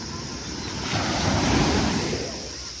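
Ocean waves wash in at Hyams Beach on Jervis Bay, a broad continuous roar of surf that swells toward the middle and eases off, with some wind buffeting on the microphone.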